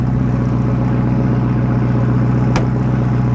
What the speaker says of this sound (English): Got to be one of my favourite Ferraris, if not one of my favourite all-time cars. But just listening to that and seeing it is awesome.